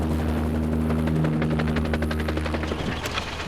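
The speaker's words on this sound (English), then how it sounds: "This is the chopper's tail rotor." A helicopter's tail rotor spins with a steady, loud droning hum and rapid rhythmic blade pulses, close and continuous.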